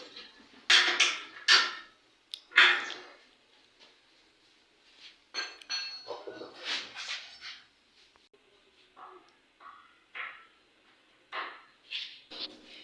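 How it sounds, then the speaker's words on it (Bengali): Nuts being tightened with hand tools while fitting a motor defender set on a new-model Mishuk vehicle, with intermittent metallic clanks and ratcheting scrapes in short bursts, close and fairly quiet. "তো আমরা সব লাটগুলো ভালোভাবে টাইট দিয়ে নেব পরিমাণ মতো।"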